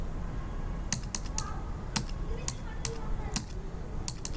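Computer keyboard typing a number and pressing enter in accounting software: about a dozen crisp key taps in an uneven, quick rhythm, close to the microphone over a steady background hum.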